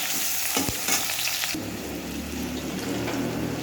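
Onions sizzle steadily in hot oil in a home kitchen while a fish curry with taro is prepared, a continuous crackling hiss that swells louder partway through, with no talking.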